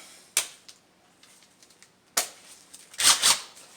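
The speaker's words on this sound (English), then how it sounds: "I'm going to use my impact gun." An impact gun loosens bolts on the throttle body of a 2008 Dodge Charger: a few short, sharp mechanical rattling bursts close by, separated by quiet gaps.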